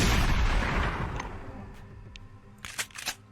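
Shotgun blasts in the video game Encased, one heavy boom opening loud and decaying, then a few sharper shots and pops further apart near the end.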